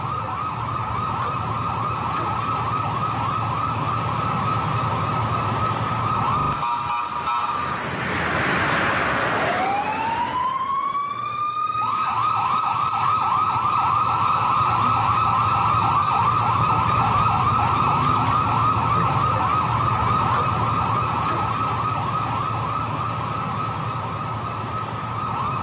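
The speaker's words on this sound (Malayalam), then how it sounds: "സുഖമില്ലാതായ ഉടമയെ ആംബുലൻസിൽ ആശുപത്രിയിലേക്ക് കൊണ്ടുപോവുകയാണ്" An ambulance siren wails continuously and loudly as the vehicle carries a sick owner to hospital, with a brief dip and rising sweep partway through before the steady wail resumes; no one speaks.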